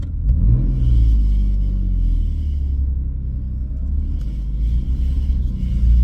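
A car engine rumbles low and steady while driving, with a brief rev near the start and a continuous deep drone inside the cabin, loud and close.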